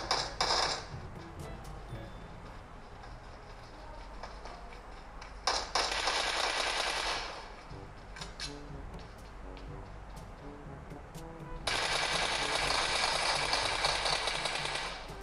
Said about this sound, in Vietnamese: Boss bắn nhau loạn xã cả lên.